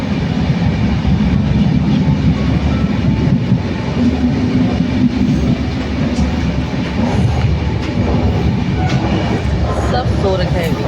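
A passenger train running on rails, its loud, continuous rumble and rattling wheel noise steady throughout, with indistinct voices of passengers faintly mixed in.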